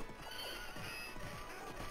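A horse neighs and hooves gallop in the Knights of the Round arcade game, a steady, busy stretch of synthesized neighing and clip-clop layered over continuous game sound.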